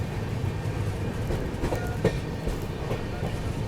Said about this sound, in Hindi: वैसे अपनी ये जो हमसफर एक्सप्रेस है ना, अभी भोपाल जंक्शन से निकली।